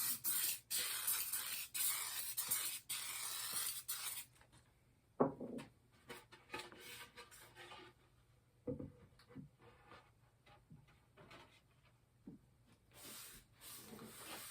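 Starbond glue activator sprays from a can in a few quick hissing bursts at the start, followed by quiet rubbing and light handling noises, all faint and close.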